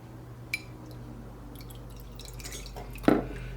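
Clam liquor poured through folded cheesecloth, dripping and trickling into a bowl in a quiet kitchen, with a small drip early on and a brief louder splash of liquid near the end.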